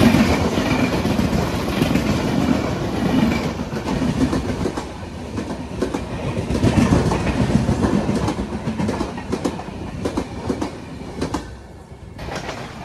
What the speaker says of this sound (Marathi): कोणतीतरी ट्रेन बाजूने जात आहे